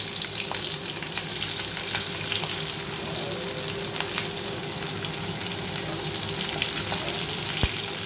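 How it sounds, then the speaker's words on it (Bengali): Onions frying in oil in a home kitchen pan, a steady dense sizzle with occasional crackles and light stirring scrapes throughout, no talking. "এবার পেঁয়াজগুলো একটু ভেজে নিচ্ছি, হালকা হালকা ভাজবো।"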